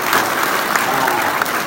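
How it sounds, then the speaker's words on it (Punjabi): A village crowd applauds steadily through an outdoor political gathering, dense and loud clapping filling the short stretch without a break. "ਤਾੜੀਆਂ ਮਾਰ ਕੇ ਹੌਸਲੇ ਤਾਂ ਵਧਾ ਦਿਆ ਕਰੋ"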